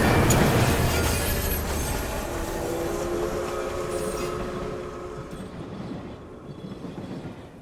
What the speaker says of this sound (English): as the train starts to come to a stop, and the chugging starting to slow down, but it gets louder because it's stopping